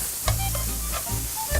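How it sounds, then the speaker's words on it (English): Chopped portobello mushroom caps sautéing in a pan, a steady close sizzle with occasional stirring scrapes and clinks, no talk over it. "These are chopped up portobello mushrooms, just the caps. And let that saute for just a minute."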